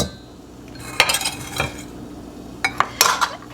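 Spoon stirring bottled lemon juice into a lemon curd mixture in a pan, with a few sharp metallic clinks and scrapes against the pan over a faint background hum.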